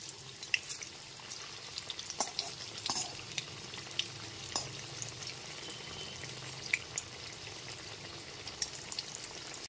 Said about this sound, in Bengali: তাই আমি অপর পিঠটা উল্টে ভেজে নিচ্ছি